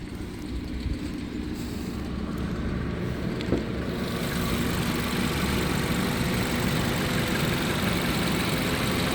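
A 2009 Volkswagen Passat B6 engine idles with a steady low rumble, and a broad blowing hiss rises and stays constant partway through as the climate control fan runs.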